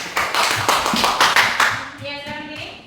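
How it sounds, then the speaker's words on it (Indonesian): Classroom applause for a student named Bayu, a short burst of several hands clapping in a quick uneven rhythm, close and lively, fading as a voice begins speaking. "Iya, tepuk tangan buat Bayu."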